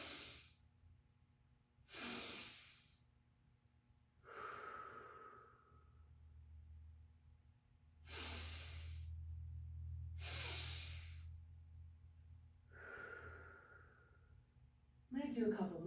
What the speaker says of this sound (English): sometimes I like to exhale out the mouth,